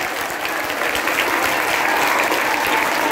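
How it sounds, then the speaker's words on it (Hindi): Loud, sustained applause from a school Teacher's Day audience honoring guests, a dense crowd of hands clapping steadily and building slightly, with no talk over it. "जोरदार तालियों के साथ"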